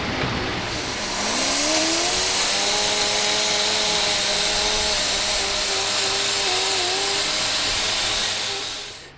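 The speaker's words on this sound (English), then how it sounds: "Jess wire wheels the external housing to get all the old rust and paint off" A wire wheel on a power tool strips old rust and paint from the external housing of a WW2 Grant tank's 75mm gun. It spins up with a rising whine into a loud, continuous, harsh grinding roar that holds steady before winding down.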